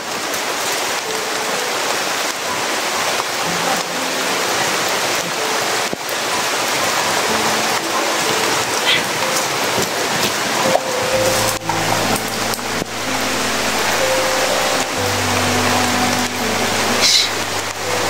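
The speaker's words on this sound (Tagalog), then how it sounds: "Ulan na talaga, tol. Kaya sobrang ulan" Heavy rain pours down outdoors in a steady, loud, dense hiss with drops spattering on surfaces, continuing unbroken throughout with no voices.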